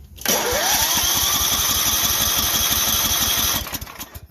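A small engine on outdoor power equipment with a freshly cleaned carburetor and the choke on is cranked steadily for about three seconds, a loud rhythmic chugging that never pops or fires, then stops.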